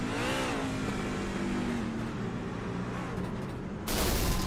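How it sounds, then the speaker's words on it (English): A NASCAR truck engine at Martinsville Speedway revs in a loud, continuous mechanical roar, with a rising whine early on and a sudden louder surge near the end. "He was revving her up."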